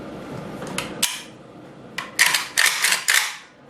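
An AK rifle is cleared and its magazine removed and handled, giving a few sharp metallic clicks and clacks close up over a low background hum.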